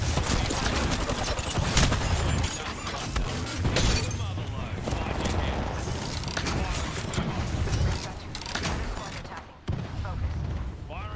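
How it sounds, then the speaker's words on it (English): A thermite weapon fires in a sci-fi shooter video game, a dense continuous barrage of loud bursts and crackling impacts lasting several seconds, with a voice speaking over it. "Firing me thermite."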